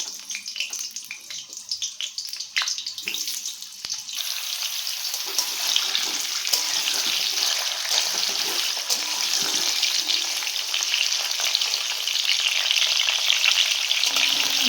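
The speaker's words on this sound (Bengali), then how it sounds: "তারপরে তেল গরম হয়ে গেলে আলুগুলোকে ছেড়ে দিচ্ছি। একটু নুন দিয়ে ভালো করে একটু ভেজে নেবো" Potatoes dropped into hot oil in a kadai and fried with a little salt, a loud, steady sizzle that swells after the first few seconds and holds, close up, with occasional stirring and no talking.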